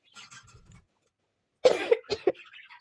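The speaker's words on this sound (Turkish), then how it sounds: "öksürüyorum" A woman coughs a few times in a quick cluster, close and fairly loud, after some faint background murmuring and a brief pause of silence.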